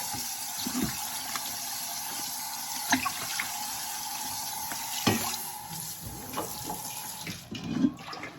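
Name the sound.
washing food in a stainless steel colander under running tap water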